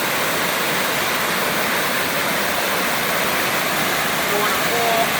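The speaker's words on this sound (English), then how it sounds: "Waterfall." A waterfall roars in a dense, steady rush of falling water, loud and close throughout, with no clear talking.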